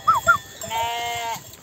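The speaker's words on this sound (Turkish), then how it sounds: "Halen daha su içen koyunlar var." Sheep drinking at the water on a highland pasture, two short close bleats followed by a longer, wavering bleat.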